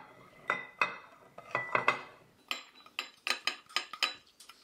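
Metal utensils clink and scrape against a pan as onions go in while Goan spicy fish cutlets are cooked, a series of sharp, quiet clatters at an uneven rhythm.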